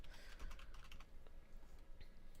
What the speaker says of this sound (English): So go ahead and type up income here.